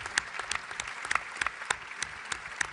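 Scattered clapping from a small group at a conference session, steady and moderately close, with sharper individual claps standing out above the patter.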